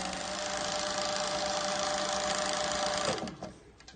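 Titan 1341 industrial cylinder-arm sewing machine winding a bobbin, a steady close mechanical whir running evenly before stopping abruptly with a click near the end, no talking.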